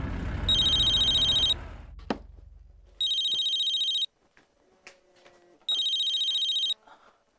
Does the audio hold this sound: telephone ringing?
yes